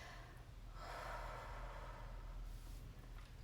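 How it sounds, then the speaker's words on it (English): A deep, slow exhale after holding the breath, a soft airy rush rising and fading over a low background hum, faint and close. "And then the exhale, we release it out."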